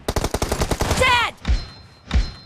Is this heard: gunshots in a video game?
yes